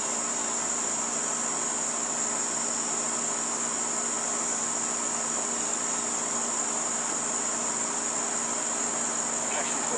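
Honey bees swarm densely in an open beehive as evening settles, making a steady, unbroken buzzing drone that holds at an even level throughout, close by and without any voices.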